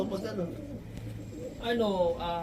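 Soft, low pigeon coos murmur close by in a pigeon loft, with a brief voiced sound near the end.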